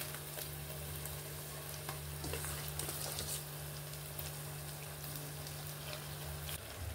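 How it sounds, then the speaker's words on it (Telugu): Fish pieces coated in salt, turmeric and chilli powder sizzle and fry steadily in a hot pan of oil for a Telugu nethallu pulusu, a continuous close crackle with a few stirring scrapes and no talk. "ఇప్పుడు ఈ చేప ముక్కలు వేసేద్దాం."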